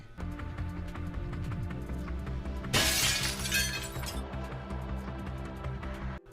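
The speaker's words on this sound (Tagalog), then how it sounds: "biglang pumutok ang salamin na pintuan" A glass door suddenly shatters with a loud, bright crash and a spray of tinkling shards lasting about a second and a half, set against a steady background of low hum and indoor noise.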